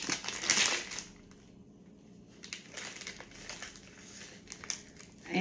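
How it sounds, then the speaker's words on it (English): Cheese is grated by hand over a beef salad, with bursts of rough, scratchy rasping strokes separated by brief pauses, close and fairly quiet. "I'm going to grate it"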